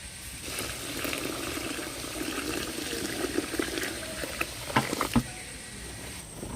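Treatment solution is poured over cleaned paddy seeds, making a steady close splashing and trickling pour with a few sharper spatters toward the end.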